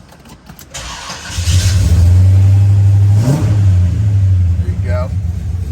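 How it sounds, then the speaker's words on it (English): A 1969 Pontiac GTO engine cranks and catches, then settles into a loud, rumbling idle with a quick rev blip midway before dropping back; the sound is close and dominant, with a voice briefly at the start. "That starts the car."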